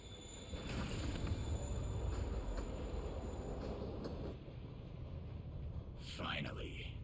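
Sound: moving train

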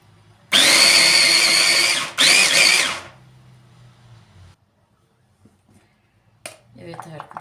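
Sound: food processor chopping peppers and onion

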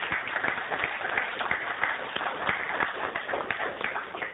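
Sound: audience applause for Dr. Weinberg

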